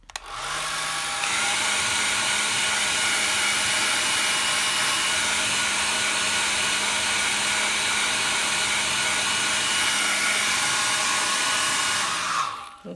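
A hair dryer runs steadily to dry a fresh watercolour painting, a loud continuous whir that rises slightly in pitch after a second and holds for about twelve seconds before cutting off.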